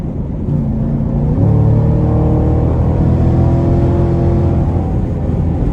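A 2021 Chevrolet Camaro 2SS convertible V8 exhaust rumbling loud and close as the car accelerates hard, engine note climbing steadily in pitch through the run.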